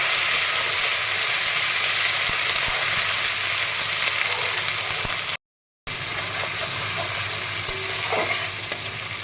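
Cumin seeds and ground ginger-pepper paste sizzle and fry in hot oil, a steady close crackle with light stirring scrapes throughout, briefly cut by a short silent gap midway.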